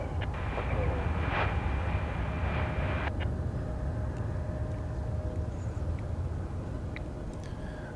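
An American Airlines Airbus A321 at DFW Airport rumbles as a steady low roar under a voice, with faint whines and tonal hums from the airfield.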